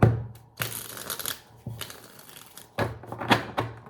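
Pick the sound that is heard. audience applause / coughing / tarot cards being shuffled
tarot cards being shuffled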